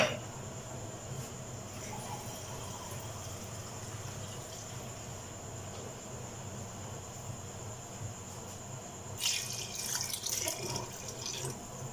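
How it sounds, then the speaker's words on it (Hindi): Water being poured into washed urad dal in a cooking pot, a soft steady trickle and splash running throughout, with a brighter burst of pouring near the end. "तकरीबन 2 गिलास पानी डालूंगा।"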